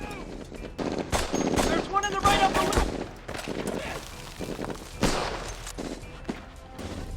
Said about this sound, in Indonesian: Shifty Powers memperlihatkan kapabilitas mautnya sebagai marksman dengan efisiensi tinggi menghabisi tentara Jerman